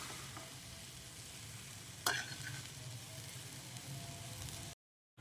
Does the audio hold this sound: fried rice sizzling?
yes